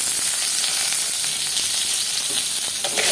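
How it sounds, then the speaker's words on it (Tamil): Curry leaves and vadagam sizzle in hot oil as a tempering for Salem-style horse gram rasam, a steady, loud frying crackle that runs unbroken with no voices. "அப்புறம் கொஞ்சம் கருவேப்பிலை இதெல்லாம் போட்டு வதக்கிடலாம்"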